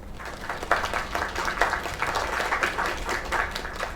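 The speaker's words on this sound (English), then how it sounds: "Another round of applause." A crowd applauds steadily for a few seconds, a dense, even patter of clapping with no voices.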